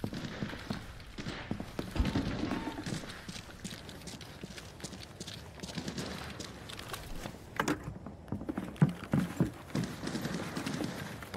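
Horse hooves clip-clopping in the shooter game Arena Breakout: Infinite, a steady run of close hoofbeats with a brief neigh, set against game ambience and occasional soft voices.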